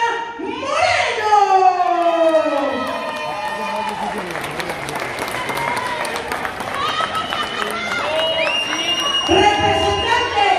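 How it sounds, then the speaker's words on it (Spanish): At a lucha libre wrestling show honoring Rosy Moreno, a crowd applauds and cheers with rising shouts and whistles, a loud sustained roar mixed with tonal calls throughout. "Démosle un cordial y fraternal aplauso a la señora Rosy Fierecilla"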